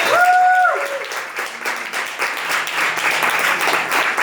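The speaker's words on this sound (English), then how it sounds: "Give it up for Johnny." Audience applause for a poet at a youth slam, a lively burst of many hands clapping that stays strong throughout, with a brief voice and a sung or whistled tone near the start.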